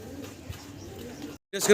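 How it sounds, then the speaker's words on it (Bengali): Pigeons coo at a pigeon farm where a pair of large Hena Potter pigeons in stencil colour are kept, soft low calls sounding close under ongoing talk before a brief pause. "দর্শক আমরা এখানে দেখতেছি এক জোড়া পটার কবুতর"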